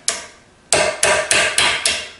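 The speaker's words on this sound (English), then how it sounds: "let me go get a little punch and a little hammer, and we'll take that nut off." Hammer strikes a metal punch to loosen a bearing nut on a Pratt & Whitney lathe, six sharp ringing metallic blows, one alone and then five in a quick steady rhythm, close and loud.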